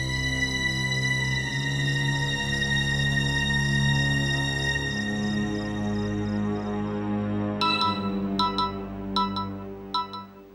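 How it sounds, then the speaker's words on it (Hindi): A phone ringtone plays at night in a household drama scene, a sustained electronic melody with repeating tonal patterns, ending in a few sharp bright chimes. "रात में किसका फोन?"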